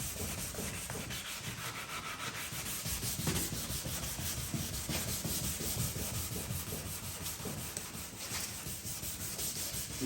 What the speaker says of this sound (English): You're trying to sand that all flat.